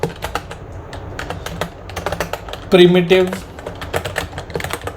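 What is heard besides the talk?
typing on a computer keyboard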